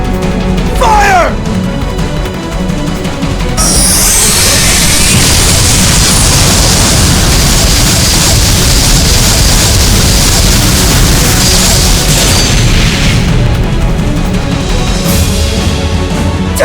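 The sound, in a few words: weapons firing and exploding in video game Guilty Gear Xrd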